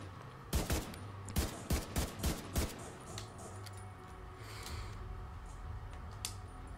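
Sniper gunfire in The Division 2 at the Air & Space Museum: a rapid series of about eight sharp shots in the first two seconds, then fainter scattered reports over a steady game ambience.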